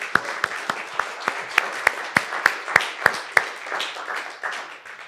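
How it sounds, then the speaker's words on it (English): Audience applause for the musicians after a drumming performance, a field of many hands clapping with a run of sharp, evenly spaced louder claps standing out near the front before the sound thins and fades. "Let's give a round of applause to the musicians"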